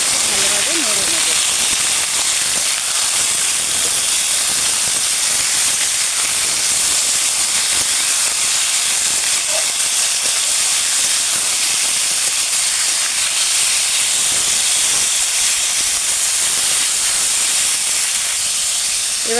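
Chopped tomatoes for a tomato jhal sizzle steadily in a hot pan as they are stirred, with a loud, continuous hiss that lasts throughout.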